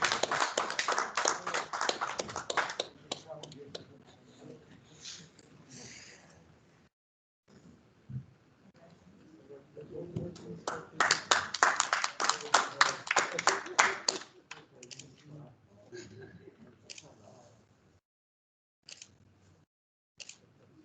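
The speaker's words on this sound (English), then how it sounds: "Another round of applause for Far East for being the overall winner" An audience at a national exporter awards ceremony claps for the overall Exporter of the Year winner in bursts of applause, with gaps of near silence and an announcer's voice around them.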